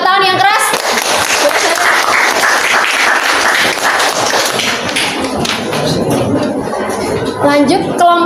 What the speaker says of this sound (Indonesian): Boleh minta tepuk tangan yang keras?